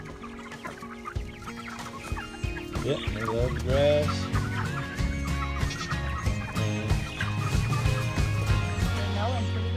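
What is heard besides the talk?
chickens clucking while grazing on the lawn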